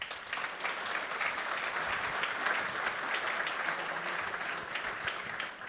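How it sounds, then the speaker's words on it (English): Steady applause from a conference audience after a panel on fleet management, dense overlapping claps of even loudness throughout, with no voices on top. "Thank you for your warm applause for this panel."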